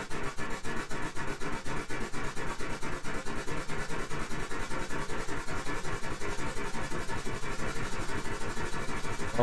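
A steam locomotive in a train-driving simulator game chugs in a steady, fast, evenly repeating pulse, loud and continuous throughout with no voices.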